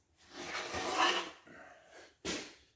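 A hand plane draws across a wooden acoustic guitar brace in three rasping strokes, a long loud pass followed by two shorter ones, close and with no talking.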